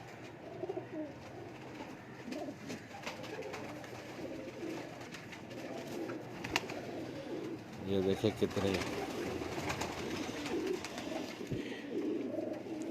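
Ferozpuri pigeons coo softly and repeatedly in a loft, their low throaty calls running beneath a voice with some rustling and handling noise.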